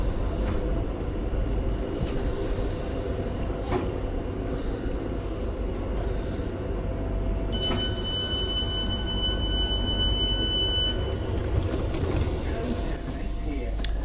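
A Tyne & Wear Metro train stands at a station, a steady loud hiss of air brakes and compressed air running throughout with high whistling tones and clunks, while a voice talks in the background.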